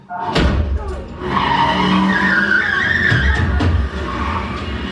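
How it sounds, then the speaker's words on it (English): Car tires screech in a loud, sustained skid as the vehicle pulls away in a TV horror drama scene, with engine roar underneath lasting several seconds. "And stole the car with Scarlett in it."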